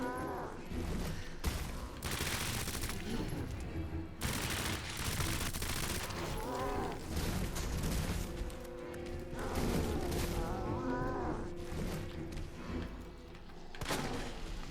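Repeated gunfire in the Resident Evil 2 remake on hardcore difficulty, a steady barrage of loud shots and crashing impacts running through the whole stretch, with no talking.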